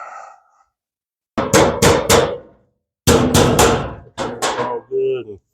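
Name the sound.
hammer tapping metal flat on Chevy Nova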